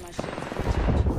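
A short burst of gunfire, a few close, loud shots in quick succession with a voice speaking over them.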